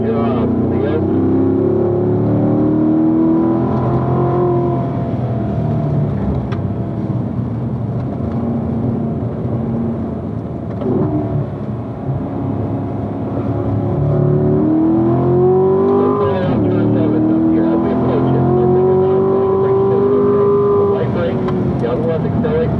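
Race car driving on a track, its engine droning and shifting pitch as it accelerates and brakes, heard from inside the car under a man's running instructions.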